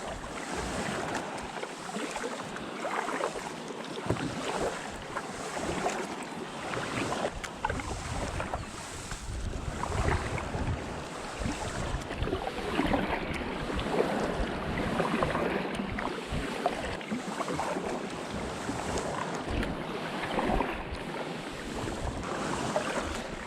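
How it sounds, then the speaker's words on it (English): Kayak on the North Sea off Filey in a northeasterly wind: waves slap and wash against the hull while wind rumbles over the microphone, with continuous close splashing throughout. "It's quite weird feeling the waves underneath the boat."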